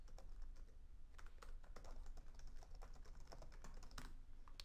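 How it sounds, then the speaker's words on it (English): Rapid, steady keyboard typing, light clicky keystrokes close up over a faint background hiss, with no voices. "by typing in my email address."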